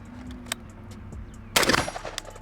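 A few sharp gunshots from an AR-15 Dissipator rifle with a Geissele single-stage trigger ring out close by as a burst in the second half, after a quieter stretch of background noise.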